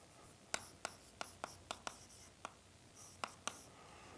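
Chalk taps and scratches on a board as a Fourier mode is written during a doctoral lecture on partial differential equations. Sharp, close strokes come in a quick irregular series with brief pauses, faint against a quiet room.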